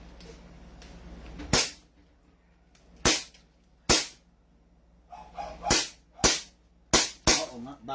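Airsoft pistols, including a CZ Shadow 2, KP19 and 2011 Hi-Capa, fire at a target: about seven sharp, close cracks, first spaced apart and then in quicker pairs, over a quiet background with faint voices.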